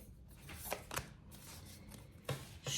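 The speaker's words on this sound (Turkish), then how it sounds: "Şöyle kartları bir karıştırıp devamına baktığımızda" Cards shuffled by hand in a quiet room, a few quick riffling bursts spaced apart, close and fairly soft with no talking.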